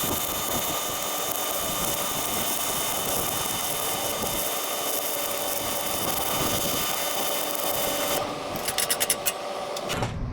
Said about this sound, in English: Okay, that's welding too hot.